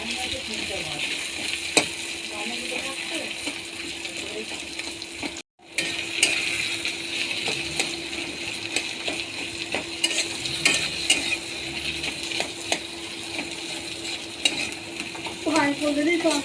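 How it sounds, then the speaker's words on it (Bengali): Boiled potatoes being stirred and mashed into reddened fried onions and chopped green chilli in a pan for Mughlai paratha filling, a steady scraping and sizzling texture with brief clinks, one short silent gap partway through. "ভালো করে ম্যাশ করে নিতে হবে আলুটা, না তো আবার গোটা গোটা বেঁধে থাকবে।"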